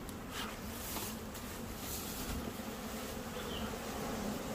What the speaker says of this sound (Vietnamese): Giờ là ong đang sập.